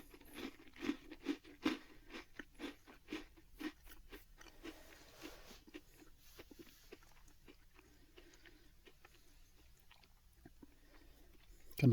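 A crunchy, dark chocolate cookie chewed close to the mic, with a quick run of sharp bites and crunches that eases into softer, irregular chewing and mouth sounds.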